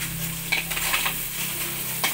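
Kakul snails fry in a spice paste in a pan with a steady loud sizzle, broken by several scraping stirs and clinks of the utensil against the pan.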